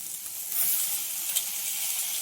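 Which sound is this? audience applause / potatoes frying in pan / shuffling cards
potatoes frying in pan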